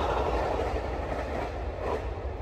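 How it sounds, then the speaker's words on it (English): A train rolls past in the South Florida outdoors, a steady loud rumble with continuous wheel-on-rail noise that holds at near-constant level throughout. "Train."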